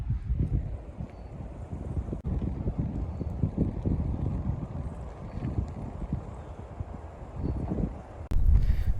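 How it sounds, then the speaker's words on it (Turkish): Strong gusting wind at the edge of Güver Cliff in Antalya, Turkey, buffets the microphone with a constant low roar, surging and easing in waves, with a harder gust near the end. "Çok rüzgar var."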